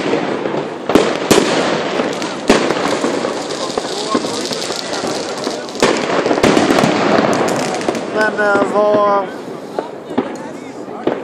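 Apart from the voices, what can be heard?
fireworks and firecrackers exploding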